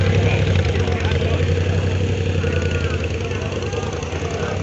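A motorcycle with four exhausts, alongside a Triumph Street Triple and a Moto Guzzi, idling nearby with a loud, steady low rumble and slight uneven pulsing, running continuously without pause.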